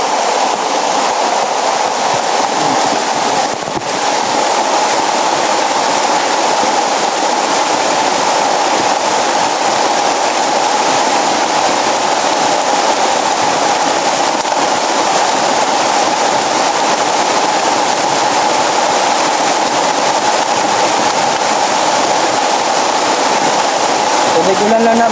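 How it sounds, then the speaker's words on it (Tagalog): Very heavy rain pours steadily throughout, a dense, loud wash of water with no letup, while people talk faintly in the background. "Nakikita nyo naman yung sobrang lakas ng ulan."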